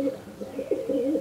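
A rare Kaldumа pigeon in a loft gives a soft, low, rolling coo, repeated in short phrases close by.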